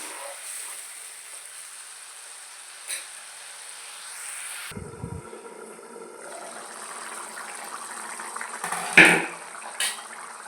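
A pot of curry with dried prawns and omelette pieces simmers after water is poured in, giving a steady low bubbling and liquid hiss with a few brief clinks and splashes, close and moderately quiet.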